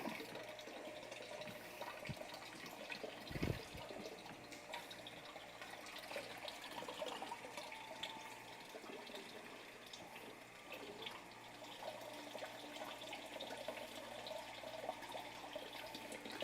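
Water from a tap or hose pours and splashes into and around a container during home brewing, a soft continuous rush with an occasional thump, faint and without speech.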